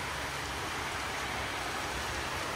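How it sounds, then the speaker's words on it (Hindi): Heavy rain pouring down in a dense, unbroken roar, close and loud throughout with no voices over it. "बारिश इतना तेज हो गया"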